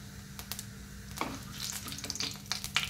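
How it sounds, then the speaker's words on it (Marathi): Cumin seeds and whole spices with bay leaves crackle in hot ghee for jeera matar pulao, with quick popping bursts and scattered spatters over a low, steady sizzle, close and moderately loud. "जिरे तडतडले की आपण यामध्ये जे आपण खडे मसाले घेतलेले आहेत ते टाकूया"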